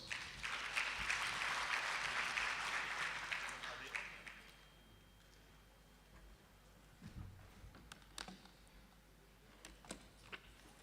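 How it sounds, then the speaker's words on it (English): Roundtable audience applause at a government economic event, a steady round of clapping for roughly four seconds that dies away, followed by quiet room noise with scattered faint taps and murmurs. "Let's give them a round of applause."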